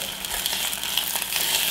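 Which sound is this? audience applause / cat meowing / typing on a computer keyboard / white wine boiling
white wine boiling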